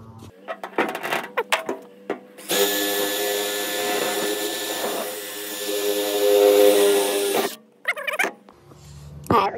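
A power drill bores a hole into a trailer toolbox, a sustained loud whining grind of about five seconds, with clinks and handling knocks of bolts and parts before and after.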